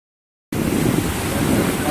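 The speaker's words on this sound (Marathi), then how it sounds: "धबधबा बघा" Amboli waterfall in monsoon country, a dense, steady roar of cascading water that cuts in abruptly after a moment of silence and holds loud and unbroken.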